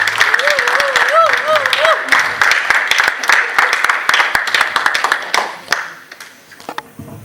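Loud, sustained applause from a crowd at a Catholic wedding blessing, dense clapping that thins out toward the end, with voices and a warbling ululation-like cry mixed in.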